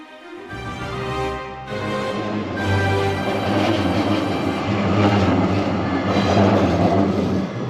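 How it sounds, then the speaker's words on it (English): A tram rolls past on a city street in The Hague with a steady broadband rumble and rail hiss, fairly close and loud, sustained throughout without voices. "These are trams."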